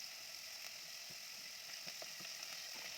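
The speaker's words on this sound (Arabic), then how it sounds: "هننزل بقطع اللحمة بتاعتنا، ونديها بقى تشويحة كده من كل الجوانب" Pieces of meat searing in a pot as the base for a vegetable and meat soup, giving a steady soft sizzle with a few faint scrapes and clicks, close and without talk.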